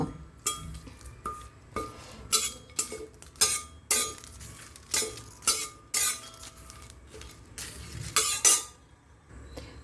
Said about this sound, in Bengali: এগুলোকে শুকনো খোলায় ভেজে নেব আর এর সঙ্গে আমি কটা পাঁচ ফোড়নও ভেজে নেব